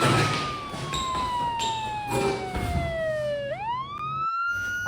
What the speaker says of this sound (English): I just heard the siren in the police patrol.